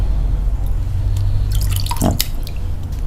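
Waterproof GP2200 VHF/UHF two-way radio dunked into water, giving a short splashy burst of drips and liquid movement near the two-second mark over steady low background rumble.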